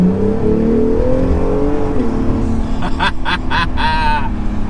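An Acura NSX engine is revved on the throttle, starting as a loud, close, rising drone that climbs in pitch, followed by a series of quick sharp revs toward the end.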